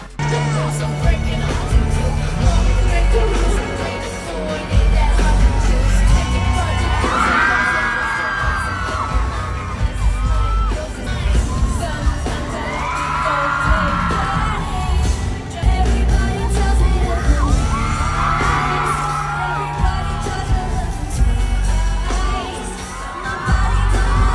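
Fans scream and cheer in a loud, continuous crowd roar at a concert in Kaohsiung, with higher shrieking swells rising every few seconds over a thumping low backdrop.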